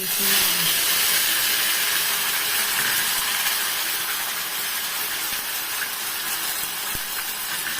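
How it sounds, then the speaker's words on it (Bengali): Nigella seeds and onion hit hot oil for a fish kofta curry, giving a loud, continuous, close-up sizzle that hisses evenly throughout and eases slightly toward the end. "এর মধ্যে কালো জিরা ফোড়ন দিলাম একটু দিলাম দিয়ে পেঁয়াজ"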